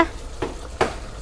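Beef curry (bhuna) being stirred in a pan, with two distinct scraping stirs about half a second apart over a low background sizzle, close and moderately loud with no talking.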